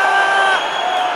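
Football stadium crowd at a Xerez Deportivo FC match against CD Rota applauding and cheering, a loud, continuous wash of many voices and clapping close around the listener.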